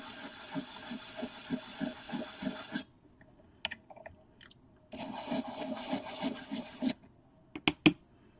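A used 240-grit sandpaper pad sands filler putty in close, rhythmic back-and-forth rasping strokes. Two sanding bursts are separated by a short pause, followed by a few light taps.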